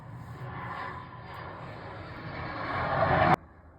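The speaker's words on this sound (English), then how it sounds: "Sorry about the plane noise in the background." Propeller or jet airplane droning overhead in an outdoor setting by dunes, a steady low rumble swelling louder toward the end before cutting off abruptly.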